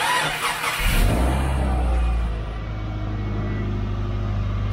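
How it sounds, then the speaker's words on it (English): A Subaru ice-racing autocross build idles with an exhaust leak, its engine catching and settling into a steady, raspy low drone that carries on alone after a brief burst at the start. "Still got an exhaust leak."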